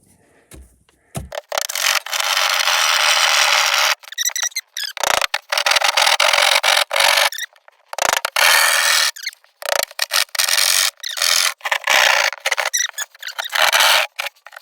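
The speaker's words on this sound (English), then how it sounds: "That's my saw." A saw cuts through a bathroom ceiling board in long, loud rasping strokes, with a steady run of sawing near the start and then shorter bursts of cutting separated by brief pauses.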